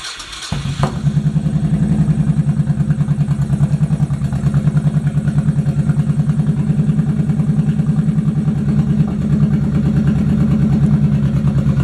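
A broken-down Honda Shadow motorcycle with the choke on cranks briefly and then fires, settling into a loud, close, rhythmic idle that stays steady to the end.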